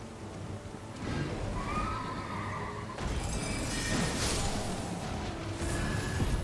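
Horse in the video game Elden Ring lets out a loud whinny with a rising and falling call, alongside hoof clatter and game background noise.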